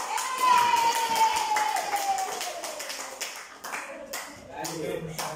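An audience at an elementary school meeting in Batang Beruh claps in scattered, uneven bursts, with voices talking over it and a sustained tone early on.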